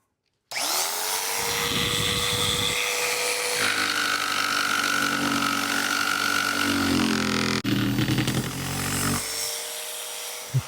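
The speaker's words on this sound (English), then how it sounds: "I'm going to cut this with my jigsaw" A jigsaw cuts a curve through scrap wood, its loud rasping buzz starting abruptly and running continuously with pitch shifts as the blade loads, a brief drop near the end before the motor winds down.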